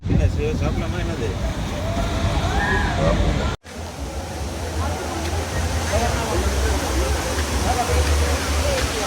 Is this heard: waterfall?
yes